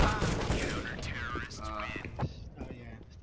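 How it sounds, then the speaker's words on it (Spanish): Gunfire in a competitive tactical shooter match, bursts of shots crackling throughout alongside tense team voice chat, with the firing thinning out toward the end. "Me dispara otra vez."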